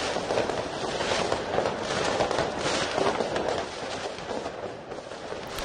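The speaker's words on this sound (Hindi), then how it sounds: "लगातार हो रही आतिशबाजी कोई जश्न नहीं बल्कि प्रदर्शन है" Fireworks and firecrackers go off at a large street protest in Serbia, a dense, continuous barrage of crackling pops and bangs that rises and falls.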